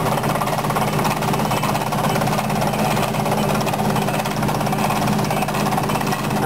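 Loud, continuous rapid hammering from a drilling rig's hammer action at Combe Down Tunnel, a dense mechanical pounding with engine rumble underneath, steady throughout.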